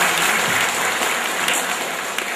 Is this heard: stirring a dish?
no